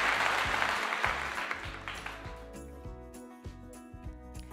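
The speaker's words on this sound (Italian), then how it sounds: "Applauso ai mod, applausi a tutti." Applause for the moderators of an Italian live stream, a steady patter of clapping at the start that thins and fades under sustained musical tones.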